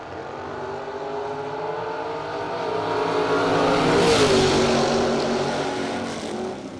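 Drag race cars, a Camaro and a Vega, roar down the strip with a steady loud engine drone that swells to a peak near four seconds, a rising whine cutting through before the sound eases off.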